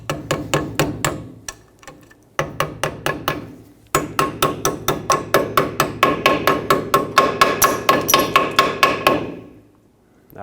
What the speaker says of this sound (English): Now, put this new shim on, tap it down.